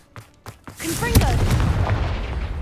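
A Confringo blasting spell goes off in Hogwarts Legacy: a few short sounds lead into a loud, sharp blast at about one second, followed by a sustained heavy rumble that slowly fades.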